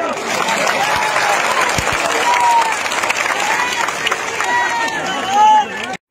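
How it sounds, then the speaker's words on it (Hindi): A large outdoor crowd at a political rally in Bamori, Guna, Madhya Pradesh, claps loudly in a sustained burst, with shouts and voices mixed in, before the noise cuts off abruptly at the end. "तालियां बजाओ।"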